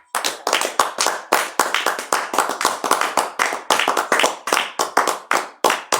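Close, rhythmic hand clapping from a small group at a family worship service, sharp regular claps in a steady beat for six seconds with almost no voices.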